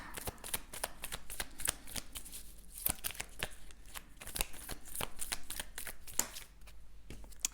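Tarot cards shuffled by hand in quick riffling bursts, a dense run of sharp papery flicks and snaps that repeats steadily with brief pauses, close and clear with no talking.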